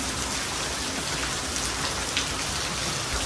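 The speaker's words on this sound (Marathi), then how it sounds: "असं घाण पाऊस पडतोय" Heavy monsoon rain pours steadily during the Pandharpur Wari pilgrimage, a dense, even hiss of drops drumming on surfaces nearby, with no voices.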